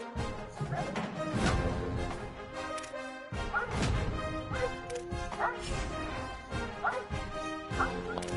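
A dog barks repeatedly in short bursts under a loud, dense wash of crowd noise and commentary, with a few yips mixed in.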